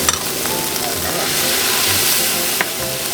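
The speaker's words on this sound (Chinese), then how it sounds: "在家我们都是离火做翻炒" Garlic, anchovy, capers and chili stir-fried in a pan for puttanesca sauce, a loud, steady close sizzle with faint scraping from stirring and one sharper clank near the end.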